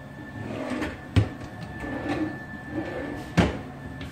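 Cabinet drawers in an empty rental house slide and bump shut, with two sharp wooden knocks about two seconds apart over quieter scraping and rattling in a small room.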